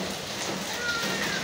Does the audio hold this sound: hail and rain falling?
yes